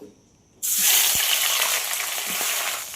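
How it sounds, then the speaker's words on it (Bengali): A fish head rubbed with salt and turmeric drops into hot mustard oil, bursting into a loud, steady sizzle after a quiet start, with a few faint pops and clinks beneath the frying. "মাছের মাথায় লবণ আর হলুদ মাখিয়ে রেখেছি, সেটা দিয়ে দেব ভাজার জন্য"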